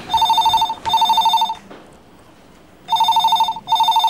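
A telephone rings close by in a home, loud and alone, in two pairs of bright double rings separated by a short silent gap.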